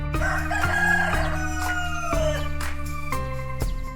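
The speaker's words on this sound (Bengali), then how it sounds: "এটা হলো রুস্টার। মরগ এরকম করে ডাকে।" A rooster crows loudly and alone, a long drawn-out call that rises and falls, set over a steady background of other tones.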